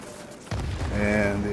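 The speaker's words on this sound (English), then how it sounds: "And the AA gun takes me out." Anti-aircraft gun fire in a flight combat video game, a sudden loud burst of booming shots starting partway through and continuing over a low engine drone with a high whine.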